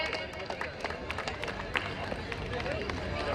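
A crowd claps for the badminton doubles winners at a cultural celebration: continuous scattered applause with sharp individual hand claps, heard at moderate distance with background murmur.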